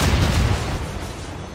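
Ship cannon fire in the naval battle game Assassin's Creed Rogue, a heavy booming blast that rolls into a low rumble and slowly fades.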